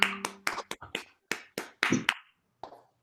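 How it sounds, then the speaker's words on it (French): A small online audience applauds over open microphones, a handful of separate claps and taps arriving unevenly and sounding close and dry, with a brief pause before one last faint clap. "Vous ouvrez vos micros pour un joli applaudissement"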